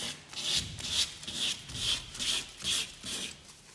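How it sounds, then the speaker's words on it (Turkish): Sandpaper scuffing a painted wooden fireplace surround to distress the finish, with rhythmic back-and-forth rubbing strokes roughly twice per second, close and moderately quiet. "zımparayla da alttan siyahı çıkartarak zımpara eskitme de yapabilirsiniz"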